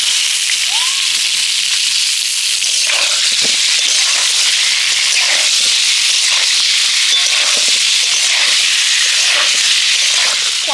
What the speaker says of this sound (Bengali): এবার ওই তেলের মধ্যে ছাড়িয়ে রাখা পটলগুলো এবার আমি দিয়ে দেব।